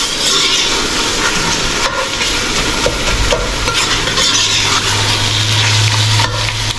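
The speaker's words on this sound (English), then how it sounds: "Now we will add the fish heads that we cooked before, and we'll give it a quick mix." Fish heads are mixed into Bengali muri ghonto in a pan: a steady close scraping stir over loud continuous frying sizzle and hiss, with no voices.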